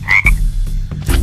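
Frogs croak in a swampy grove in The Legend of Willow Valley video game, a few loud, close, throaty croaks in quick succession.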